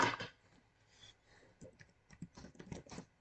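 Quiet, irregular clicking of keys on a computer keyboard, short bursts of taps in uneven rhythm at close range, with no speech over them.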